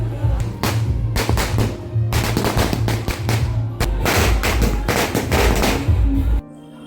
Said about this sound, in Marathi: मुलांनी आणि तरुणांनी फटाके फोडून उत्सवाला रंगत आणली